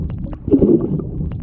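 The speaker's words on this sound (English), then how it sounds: "A good hand entry should sound like this." A freestyle swimmer's hand enters the water, heard as a muffled, close splash and gurgle with soft churning water around it.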